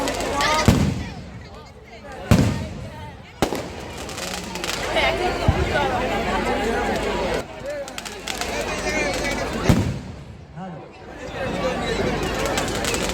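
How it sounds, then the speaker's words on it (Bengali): A fireworks display at an organised outdoor show, with several sharp booming bursts over continuous crackling and a loud crowd murmuring and talking throughout. "আপনারা উপভোগ করছেন শক্তি সঙ্গে আয়োজিত আতশবাজি প্রদর্শনী"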